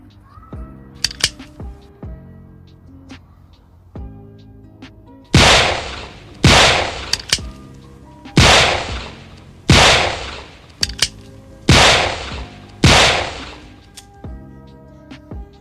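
A six-round .442 Webley RIC Model 1 prop revolver fires about eight loud, sharp shots at a steady pace, each with a brief decaying tail, after some quieter clicks and handling of the gun.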